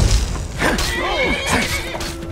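A horse in The Elder Scrolls V: Skyrim whinnies in a short, rising-falling neigh with a couple of snorting pulses, close and clear against muffled background noise.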